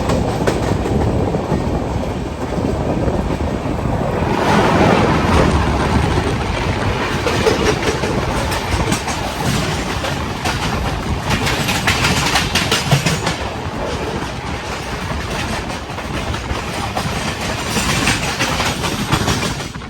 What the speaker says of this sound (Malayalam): ഇപ്പൊ ഒരു WCAM2 വെച്ചൊരു ട്രെയിൻ പോയില്ലേ, അത് മറ്റേ CSMT പൂനെ ഒരു ഇന്ദ്രായണി എക്സ്പ്രസ് എന്നൊക്കെ പറഞ്ഞൊരു വണ്ടിയുണ്ട്.